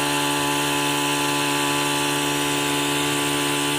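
An Etenwolf Vortex S6 cordless air compressor inflates a tire, its motor giving a loud, steady buzzing whine with a strong hum that runs unbroken throughout, with no voices.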